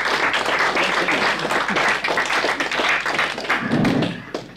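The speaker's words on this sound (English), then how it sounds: "People, by the way, will spontaneously clap as he walks down." Lecture audience clapping as a volunteer walks down to the front, a dense, steady round of applause from many hands close by, lasting several seconds with a brief rise near the end.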